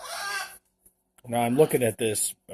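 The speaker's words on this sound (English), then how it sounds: "Excuse the birds in the background." Chickens cluck and a rooster calls in the background, brief and moderately loud, while someone talks close by.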